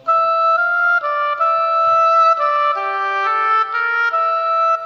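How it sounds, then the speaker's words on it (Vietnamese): The built-in oboe voice of a Yamaha keyboard plays a clear, reedy melody of distinct notes changing about once a second over soft chords, close and fairly loud, with no talking, for a Vietnamese song. "Tiếp theo sử dụng đó là tiếng oboe. Tiếng này có sẵn ở trong cây đàn Yamaha"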